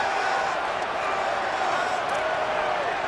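Dense, steady roar of a stadium crowd at a college football game in the EA Sports College Football video game, a continuous broadband wash of cheering with no pauses.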